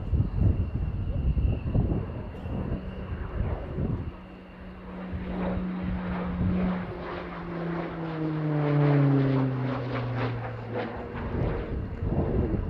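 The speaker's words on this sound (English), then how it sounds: "He's going to fly the aircraft in a high G turn" A jet aircraft pulls a 4.5 G high-G turn at the RIAT 2019 air show. A loud engine roar passes with falling tones and fades off, mixed with rumbling wind noise on the microphone.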